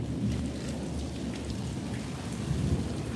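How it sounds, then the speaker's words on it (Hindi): Heavy rain pours steadily in a dense, continuous roar, with no break and no voices. "बारिश तो रुका नहीं है भाई।"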